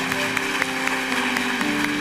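A church congregation claps in a steady, rhythmic beat at a Korean worship service, the applause heard at moderate volume over sustained musical tones.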